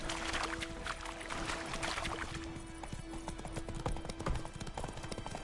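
Horse hooves clip-clop steadily in The Witcher 3 as a horse trots along, a rhythmic clopping at moderate distance over ambient game sound and a faint tonal hum.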